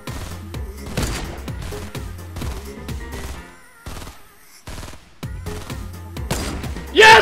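Rapid bursts of gunfire in the Fortnite battle royale game crack out in quick clusters, loud and close, with short gaps between volleys and a final sharp blast at the end.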